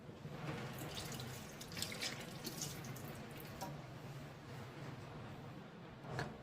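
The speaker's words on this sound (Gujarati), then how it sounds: "તો હવે આપણે આમાં પાણી નાખી દઈશું." Water pours steadily into a karamda (wild berry) pickle mixture, a continuous close splashing trickle with faint spoon or utensil clinks over the top, no voices.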